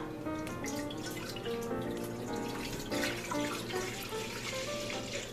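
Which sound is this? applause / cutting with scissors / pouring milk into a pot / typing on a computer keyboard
pouring milk into a pot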